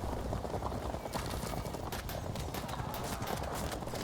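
Horse archers gallop in the medieval strategy game Field of Glory 2 Medieval, with a dense, continuous drumming of hooves that stays loud and even throughout.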